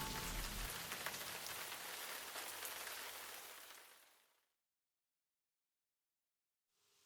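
Steady rain patters down on a surface, a dense even wash of drops lasting several seconds, then cutting off to silence before a faint return at the very end.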